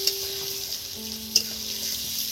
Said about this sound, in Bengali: আর এইভাবে হালকা হাতে আমি নাড়ছি